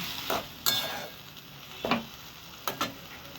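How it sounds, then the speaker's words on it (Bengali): Mashed flat bean paste is stir-fried in a pan under a constant sizzle and hiss, with a few distinct scraping strokes of a spatula close up. "এবার আমি সিম বাটাটাকে সুন্দরভাবে একটু কষিয়ে নিচ্ছি।"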